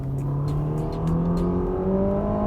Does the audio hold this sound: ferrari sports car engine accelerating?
yes